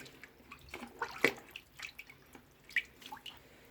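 Dirty aquarium internal filter fiber being rinsed and squeezed in a container of blackened water: irregular soft splashes and drips, one louder slosh near the middle, close and quiet, no voices.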